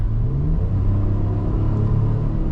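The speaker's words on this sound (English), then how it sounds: "The Nismo exhaust sounds really good." A 2026 Nissan Frontier Nismo pickup truck's exhaust gives a steady, loud, deep rumble with a low droning tone, with no talk over it.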